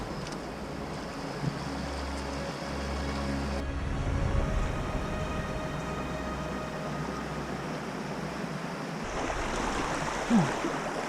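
Continuous rushing water of a river at Coronation Plantation, County Wicklow, broad and steady, with wind noise and a low rumble underneath.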